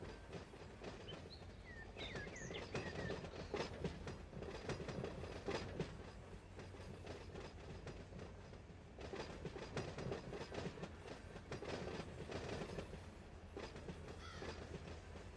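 Locomotives working the big rail yard at Barstow in the Run 8 train simulator, with a continuous rumble, rhythmic clickety-clack of railcar wheels and occasional faint wheel squeals, steady and fairly loud throughout.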